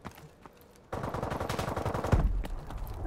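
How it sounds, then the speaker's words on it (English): Sustained automatic gunfire from the video game Call of Duty: Advanced Warfare in a free-for-all match, starting faint then swelling abruptly into a dense, loud wall of rapid shots and explosions. "You hear gunfire, but it's hard to pinpoint where it's coming from."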